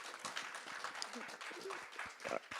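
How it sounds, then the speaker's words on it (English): An audience at a conference panel discussion claps in a short, moderate burst of applause heard from a distance, with speech over it. "How about a round of applause?"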